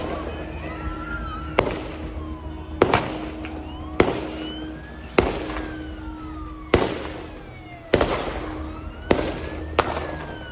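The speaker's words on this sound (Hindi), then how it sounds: "अचानक से वहाँ पे गोलियां चलने लगती हैं।" Gunfire during the Bondi Beach attack rings out as about eight loud, sharp bangs at uneven intervals, each echoing briefly, while a siren wails faintly underneath.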